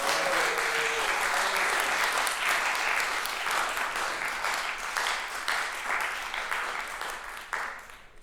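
Audience applause at a circular breathing masterclass, a dense steady clatter of many hands clapping that fills the room, then tapers off near the end with brief voices underneath.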